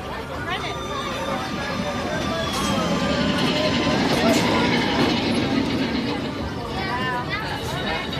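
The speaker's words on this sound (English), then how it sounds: "Just getting on Big Thunder Mountain Railroad here." The Big Thunder Mountain Railroad roller coaster train at Disneyland rumbles and clanks steadily along its track, a continuous mechanical roar under a crowd's babble and nearby talk.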